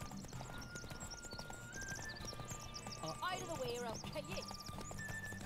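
Roach, the horse in The Witcher 3 video game, clip-clops along with steady hoof beats and lets out a clear whinny midway, all over a continuous game soundscape while someone talks throughout.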